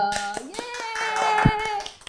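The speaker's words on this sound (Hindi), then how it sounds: "जोरदार तालियों के साथ स्वागत करेंगे" A studio audience on a Hindi TV talk show claps to welcome two guests, a quick burst of hand claps mixed with bright musical tones from a show jingle.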